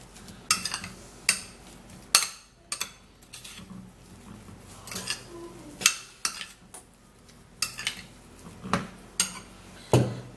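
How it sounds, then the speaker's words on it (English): Half a tablespoon of baking soda is stirred into a skin remedy in a bowl, a spoon clinking and scraping against the sides in a steady series of sharp taps and rattles, close and fairly loud. "half tablespoon of baking soda into this remedy, and then we'll stir it all up"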